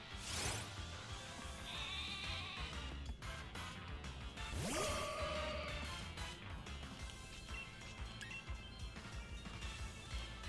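A Wooloo sheep Pokémon bleats in Pokémon Sword and Shield, with game sound effects, swooshes and a tonal chime layered over a steady background bed.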